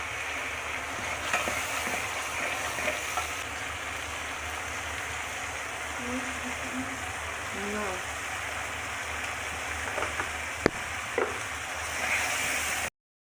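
Ginger-garlic paste fries with turmeric, chili and cumin powders in a pan for chicken bhuna, giving a steady, fairly quiet sizzle with occasional stirring scrapes and clicks throughout.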